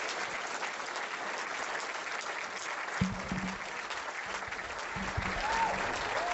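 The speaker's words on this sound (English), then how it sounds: "Have a round of applause for Kevin Shipp" Steady applause from an audience greeting a speaker, even continuous clapping at moderate distance throughout, with a few low thumps and handling noises in the second half.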